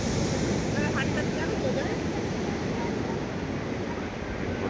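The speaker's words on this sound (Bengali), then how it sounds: "ঢেউগুলো দেখুন," Sea surf rolls on Puri beach at sunrise, a continuous close roar with wind pressing on the microphone and no distinct breaks between waves.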